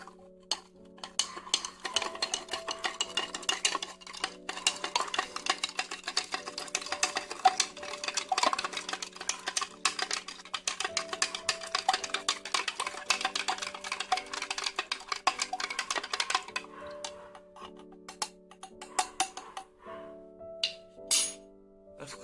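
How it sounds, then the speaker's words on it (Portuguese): Potassium permanganate solution being stirred in a container, with a dense run of rapid clinks and scraping taps for most of the stretch before it thins to a few scattered knocks near the end, with steady tonal music underneath. "Agora eu vou precisar mexer."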